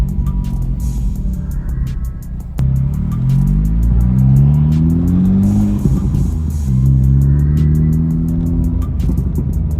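A 2024 Honda Civic Type R fitted with a new engine mount is driven away from a parking spot. The engine revs loudly in repeated rising pulls, with the gears shifting up between surges.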